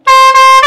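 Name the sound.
horn of 1980 Mercedes truck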